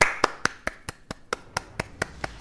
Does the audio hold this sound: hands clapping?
yes